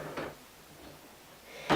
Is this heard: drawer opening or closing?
yes